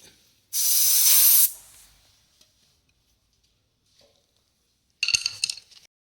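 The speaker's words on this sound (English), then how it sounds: "Just cleaning the surface. Yeah. And you're using brake cleaner." Brake cleaner sprayed onto the brake disc of an Iveco Daily 2.3 HPI van: a loud, close one-second aerosol hiss that fades out, followed later by a shorter second burst of spray.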